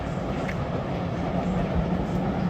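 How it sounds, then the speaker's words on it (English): A London Underground District line train rolls past outdoors near Chiswick, heading toward Kew Gardens and Richmond, as a loud, steady rumble with clattering wheels throughout. "So that train is heading to Kew Gardens next, and then Richmond, the final stop."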